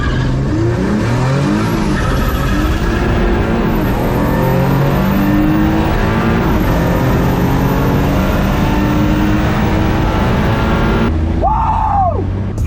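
A Mazda MX-3 running 25 psi of boost roars down a quarter-mile drag strip, with the engine note climbing and dropping through no-lift shifts. It is loud and continuous, and a brief squeal comes near the end.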